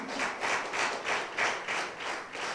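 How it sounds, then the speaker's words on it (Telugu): A church congregation at an apostolic meeting claps hard in a steady, even rhythm of about eight beats, forming a full crowd of hands slapping together at moderate distance with no talk over it. "గట్టిగా చప్పట్లు కొట్టి ప్రభువును మహిమపరుస్తాం."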